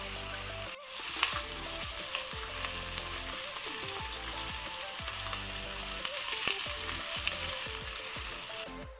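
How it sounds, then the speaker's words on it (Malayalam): Onions sauté in a pan for tomato rice, a steady, even sizzle with repeated quick scrapes and knocks of stirring, close up and alone throughout. "ഉള്ളി വഴന്നുകൊണ്ടിരിപ്പുണ്ട്."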